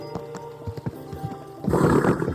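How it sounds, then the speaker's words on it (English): Horse hooves clip-clopping in an uneven rhythm, ending in a loud, breathy whinny, from the medieval video game Kingdom Come Deliverance 2; no one talks over it. "Easy. Good horse."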